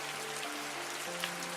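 Rain falling during a night storm, a faint, even hiss of drops with a soft steady tonal hum beneath it and no voices.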